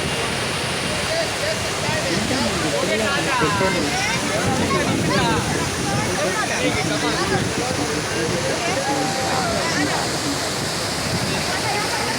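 Bogatha waterfall in Telangana roars as a loud, steady rush of falling water across the whole stretch, with voices of a crowd talking over it.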